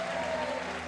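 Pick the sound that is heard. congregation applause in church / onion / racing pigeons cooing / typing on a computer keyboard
congregation applause in church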